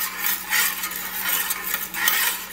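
A spoon scrapes and stirs sweetened milk in a pan over high heat while it cooks down into doce de leite, giving soft repeated scraping strokes close by with no talking.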